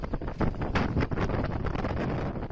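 A strong storm wind, at record strength, blows in gusts past farm greenhouses and toppled materials, loudly buffeting the microphone with rough, surging bursts of roar throughout.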